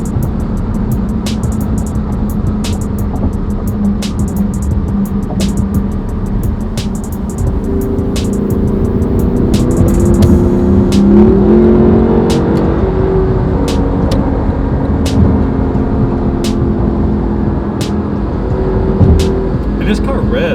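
A Lexus LC500 idles and revs steadily through its range, a continuous low engine roar with rising and falling pitch, heard close from inside or beside the car, with no talk over it.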